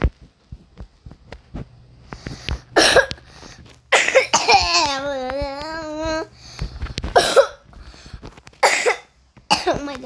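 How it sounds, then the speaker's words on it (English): A person coughs repeatedly in loud, close bursts spread across the stretch, with a brief hummed, wavering vocal sound in the middle between the coughing fits. "Oh my gosh, my cough."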